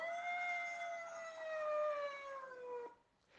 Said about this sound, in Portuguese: Seu uivo ecoava por todo o lugarejo